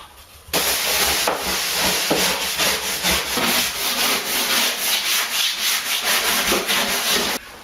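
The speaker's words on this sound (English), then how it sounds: "now I'm going to sand it with the palm sander" A palm sander fitted with 150-grit paper works over a bathtub surface, giving a steady close abrasive rasp with a pulsing rhythm that starts abruptly and runs for several seconds before cutting off, with no speech.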